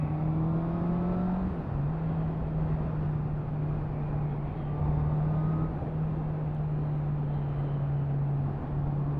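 A 2023 Honda CB650R motorcycle engine hums steadily while riding, a sustained whirring drone that briefly drops in pitch during a gear change, backed by constant wind noise at moderate level.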